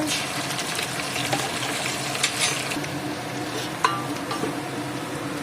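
Onions and ginger paste fry in a pan for khichuri, giving a steady, close sizzle with a few soft stirring clicks scattered through it.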